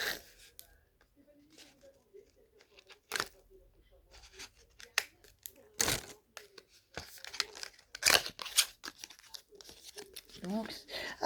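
A package of small illustration cubes is torn and crinkled open, with sharp bursts of ripping and rustling plastic or paper between quieter pauses, close to the microphone, with brief speech near the end.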